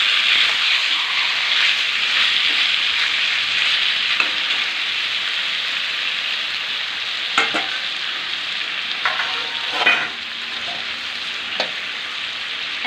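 Chicken sautéing in oil in a pan over medium-low flame, a loud, steady frying sizzle throughout with a few soft stirring knocks in the latter half.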